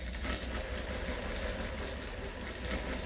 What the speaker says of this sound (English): the hand wheel is free to spin and wind your bobbin